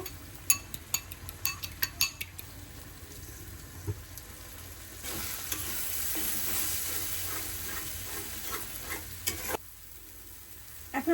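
Egg bhujia stirred and fried in a pan, with a spatula scraping and clinking in bursts early on, then a steady close sizzle through the middle before the frying quiets near the end.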